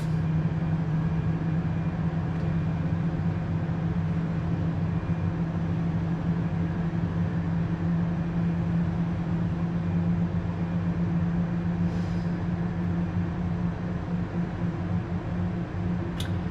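A steady low jet whine and rumble from the No. 1 engine of an Airbus A320 spooling up after start, heard from the cockpit. The sound is even and constant throughout, with a few faint clicks and no speech.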